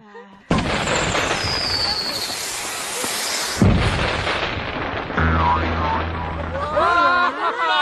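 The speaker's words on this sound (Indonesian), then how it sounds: "Ini kembang api terbaik dalam hidupku." Fireworks in a Doraemon cartoon burst loudly one after another, with booming blasts and crackle and fizzing whistles streaking across, under a continuous wash of noise.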